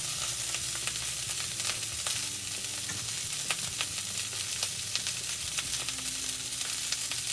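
Broccoli frying in a pan, a steady close sizzle with scattered pops and crackles throughout, no talking.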